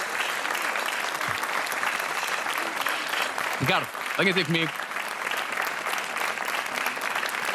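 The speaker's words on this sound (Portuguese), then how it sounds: "Um aplauso para a Anabela e para o Ricardo." A television game show studio audience applauds the contestants, sustained dense clapping filling the whole stretch while a host's voice speaks briefly over it.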